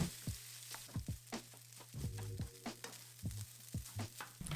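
Fried rice being broken up and stir-fried in a hot wok with oil, a steady sizzle under repeated scraping and clanking strokes of the utensil against the pan, close and moderately loud, with no talking.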